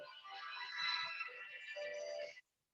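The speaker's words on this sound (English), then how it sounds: "I'm getting a phone call, and the phone call was getting rushed into me." A phone ringtone from an incoming call plays as a steady, bright electronic melody for over two seconds, then cuts off abruptly into silence.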